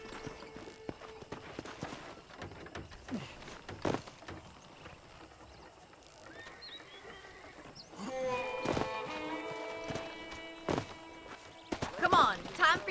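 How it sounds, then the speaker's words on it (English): Horse hooves clop in a steady rhythm in Red Dead Redemption, fairly close, with faint ambient sounds and occasional brief voices and music-like tones. "let's see if you can still ride a horse."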